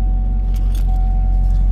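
Keys to a 2021 Chevrolet Camaro SS jangling lightly in a few brief bursts over a loud, steady engine idle hum.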